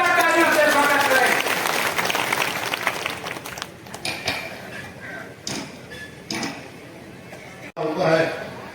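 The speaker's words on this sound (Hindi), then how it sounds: "सांसद उपेंद्र रावत जी जोरदार तालियों से स्वागत करें।" Applause from a crowd at a by-election political rally welcomes a member of parliament, strong at first with voices mixed in, then fading to scattered claps under talking.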